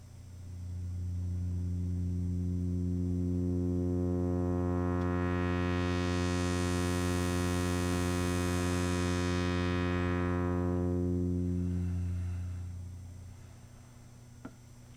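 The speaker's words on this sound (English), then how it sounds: "So what I'm going to do is just sweep the filter up." A sustained buzzy synth tone through an Elby Designs EuroSerge 1973 VCF filter, brightness rising steadily as the filter opens, peaking mid-clip and then closing back down before fading out.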